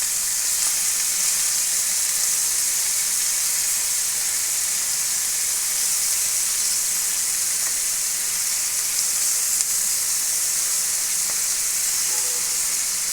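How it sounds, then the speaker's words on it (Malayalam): Pieces of tuna fish frying in a pan give a steady, even sizzle and hiss that runs unbroken throughout, fairly close and with no talking over it. "നമുക്ക് ഈ ഒരു ഭാഗം കൂടെ നന്നായിട്ട് ഫ്രൈ ആയി വരുന്നവരെ നമുക്കൊന്ന് വെയിറ്റ് ചെയ്യാവേ"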